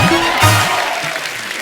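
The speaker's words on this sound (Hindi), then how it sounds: "तबला के लिए जोरदार तालियां हो जाए" Studio audience on a comedy show applauds a tabla player, with a crowd clapping wash under loud tonal music and voices, the clapping fairly masked.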